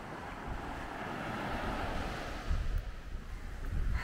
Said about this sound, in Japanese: わ、海や